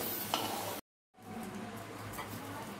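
Potatoes browned in hot oil lifted from the pan, a steady frying crackle with a brief clink, broken by a short moment of silence before the soft sizzle resumes.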